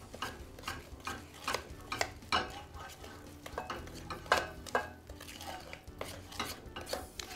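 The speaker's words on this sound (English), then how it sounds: "So the dough gets mixed until it's evenly blended" Gluten-free dough flavoured with almond extract being mixed in a bowl, an uneven rhythm of close scraping and knocking strokes of the utensil against the bowl, with no talk.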